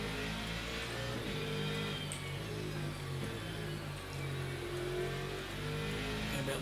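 Mustang race car in a racing video game, driven at the Fuji circuit, revs in a continuous loud, gravelly engine roar, its pitch rising and easing through shifts, with no talk over it.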